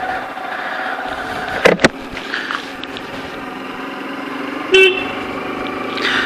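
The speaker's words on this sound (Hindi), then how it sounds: "इसकी ये हॉर्न मेरे को बिल्कुल भी नहीं पसंद" A Bajaj Pulsar RS 200 motorcycle horn sounds close by: a couple of quick blips, then a longer, steady toot a few seconds later, over a low idling background.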